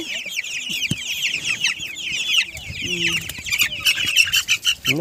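Chickens cluck and chatter continuously up close, with several birds overlapping, some wing flapping and a brief voice in the mix.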